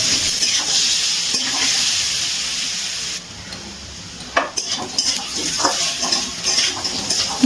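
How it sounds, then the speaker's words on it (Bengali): Boiled kohlrabi pieces fry with turmeric in hot oil on a high gas flame, giving a loud continuous sizzle with bursts of metal-on-pan stirring and scraping in the second half. "একটু হলুদ দিয়ে গ্যাসের ফ্লেমটা একদম হাইতে রেখে খুব ভালো করে ভেজে নিচ্ছি।"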